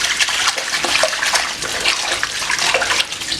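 Rice being rinsed in water for cooking pilau, a steady close splashing and sloshing wash of water throughout with no talk.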